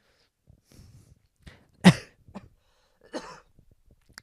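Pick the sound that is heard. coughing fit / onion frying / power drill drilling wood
coughing fit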